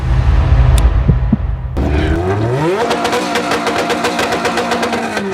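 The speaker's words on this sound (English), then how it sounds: "Cars of all kinds came rolling into Central Connecticut State University for the C3 Car Show" Cars arriving at the C3 Car Show at Central Connecticut State University: an engine idles, then revs and accelerates with climbing pitch, followed by a loud, pulsing mechanical drone of a vehicle passing close by.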